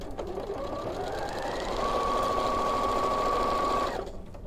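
A sewing machine stitches a quilt block seam in one continuous close run that speeds up to a steady, even whir and then stops abruptly.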